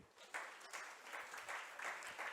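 A church congregation claps and cheers in praise during a Sunday sermon, a steady sustained burst of applause filling the room with rising swells, with a few faint voices mixed in.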